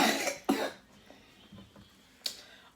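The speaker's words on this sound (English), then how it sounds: "I'm trying to eat and you're coughing" One person coughs hard a couple of times, then quieter rough throat sounds follow, ending in a sharp single cough.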